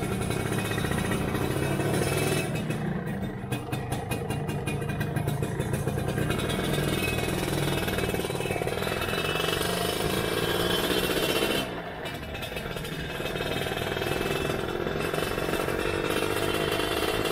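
A Suzuki Satria motorcycle engine runs steadily at low revs with a rough, rattling, continuous drone, close and loud, with a brief dip partway through.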